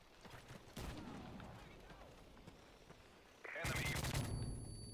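Gunfire in a shooter video game, with bursts of rapid shots and impacts near the start and a louder burst near the end, over background game noise and speech.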